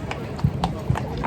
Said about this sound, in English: like this horse right here